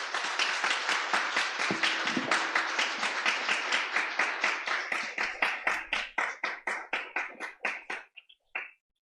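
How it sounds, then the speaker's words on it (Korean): A church congregation at a Korean Presbyterian installation and ordination service applauds together, steady clapping that tapers into slower, sparser claps and ends with a few last isolated ones. "박수 한번 하겠습니다"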